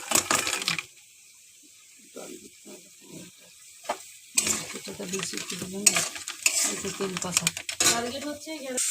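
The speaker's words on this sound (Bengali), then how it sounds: "আমি কাঁকড়াটাকে ভালো করে কষিয়ে নিচ্ছি" Crab pieces being stir-fried in a spicy masala, with a burst of sizzling and scraping, then a quieter stretch before steady stirring, clattering against the pan and frying noise return close up.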